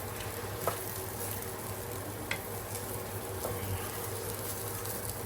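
Polao rice is stirred in a pot, a soft, steady hiss with a few light spoon taps, quiet and close, with no voices.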